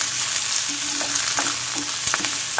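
Mutton frying with green chilies for a ghee roast, a dense, loud, continuous sizzle up close with a few soft stirring knocks against the pan, no voices.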